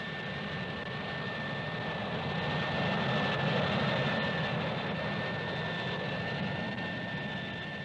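Harrier jump jet flying overhead, a steady broad roar with a high whine, swelling slightly toward the middle and staying loud throughout without talk.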